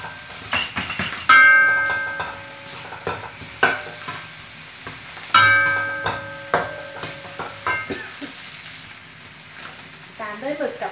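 Egg and cooked rice sizzle and fry in a pan for Thai mixed-seafood basil fried rice, stirred with repeated metallic scrapes and clanks of the spatula, close and fairly loud with no talking.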